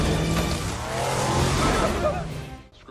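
Off-road cars drive through a sandstorm with a loud, broad engine roar and wind-blown rush, a voice talking over it before the noise cuts off abruptly near the end.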